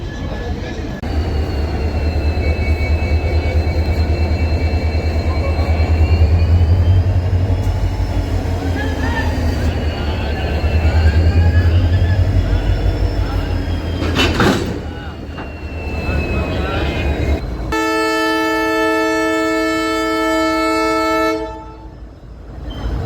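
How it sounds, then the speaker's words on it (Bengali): A diesel locomotive of a Mail Express train rumbles loudly at a station, its deep engine drone steady under passing noise, then a long, multi-tone horn sounds close by near the end. "তো আমাদের লোকোমোটিভটা এখন ওই দিকে থেকে খুলে এখন এদিকে লাগানো হবে।"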